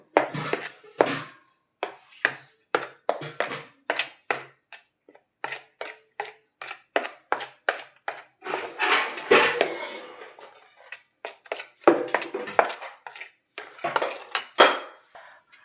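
A spoon clinks and scrapes against a metal bowl while masala for stuffed eggplant curry (gutti vankaya) is mixed, giving rapid irregular taps in bursts with a few short pauses, close and fairly loud.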